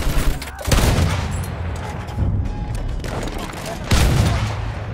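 Battlefield 1 gameplay battle with a loud fusillade of machine gun fire, dense rapid bursts rolling almost continuously, surging again near the end, with distant booms and shouted voices mixed underneath.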